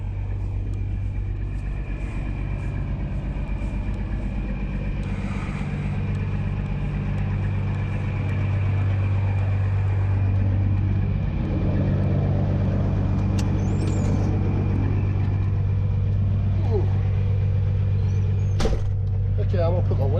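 Heavy truck engine idling with a low steady rumble in the cab of an end dump trailer rig as it is put in gear to raise the bed, with mechanical clunks and a sharp air release near the end, while someone speaks.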